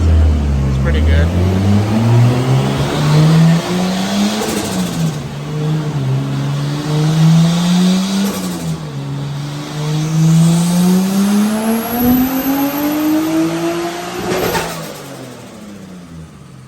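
Nissan Skyline engine revving hard during dyno pulls, very loud and close, pitch climbing and dipping through repeated long runs with sharp crackles near the end.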